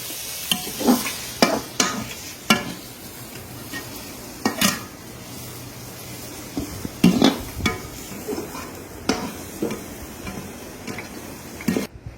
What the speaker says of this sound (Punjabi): ਹੁਣ ਇਹਨੂੰ 5 ਮਿੰਟ ਤੱਕ ਅਸੀਂ ਭੁੰਨਾਂਗੇ ਤਾਂ ਜੋ ਮਸਾਲੇ ਦੇ ਵਿੱਚ ਚੰਗੀ ਤਰ੍ਹਾਂ ਮਿਕਸ ਹੋ ਜਾਣ।